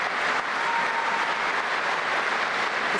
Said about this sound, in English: His comments clearly receiving loud applause and now a standing ovation